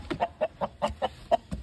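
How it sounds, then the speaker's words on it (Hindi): A jungle fowl rooster clucks in a quick, steady series of about eight short notes, close by and moderately loud. "जंगली मुर्गा"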